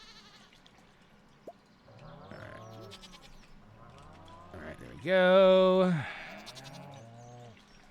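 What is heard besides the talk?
sheep bleating in the video game Stardew Valley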